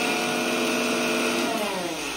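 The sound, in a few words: electric mixer grinder grinding masala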